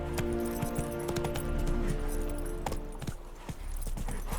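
Roach the horse clip-clops along in The Witcher 3 on PS5, a steady run of hoof beats over continuous game ambience and music, close and fairly loud throughout.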